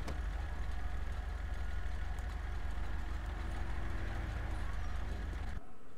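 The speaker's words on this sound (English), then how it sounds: "shut the engine off" Vehicle engine idling with a steady low rumble that runs for several seconds, then cuts off abruptly near the end.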